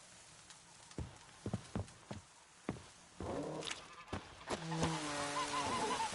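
Horse hooves in The Witcher 3 clip-clop in a loose, quickening rhythm, then a horse whinnies and snorts over continued hoofbeats, fairly close and moderately loud.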